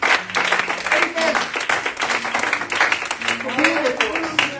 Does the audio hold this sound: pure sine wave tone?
no